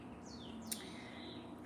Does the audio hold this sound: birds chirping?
yes